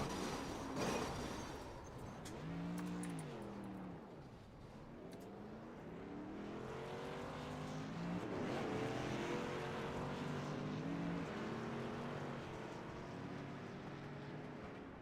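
Street stock race cars at Kern County Raceway in an iRacing sim race, engines droning and rising in pitch as the field runs behind the pace car, a steady layered roar of several cars throughout.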